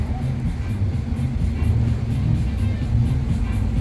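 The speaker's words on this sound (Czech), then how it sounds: "přijel nám se Mercedes-Benz 220A kabriolet z roku 1951" A 1951 Mercedes-Benz 220A convertible passes at a classic car rally in Český Krumlov, its engine a steady low rumble from start to finish, fairly close and unchanging in level, with faint crowd murmur underneath.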